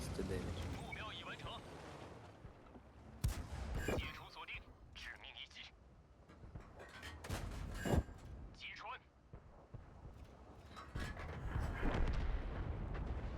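Artillery shells and tank cannon boom in World of Tanks during a light-tank battle, several sharp blasts and rumbling impacts scattered across the scene, mostly faint and mixed with someone talking.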